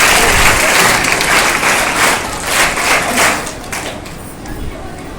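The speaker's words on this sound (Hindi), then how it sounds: "जोरदार ताली बजाकर" Audience at an Independence Day event on 15 August 2024 with the Chief Justice as chief guest, giving loud, dense applause that swells with a few bursts, then thins and fades over about five seconds.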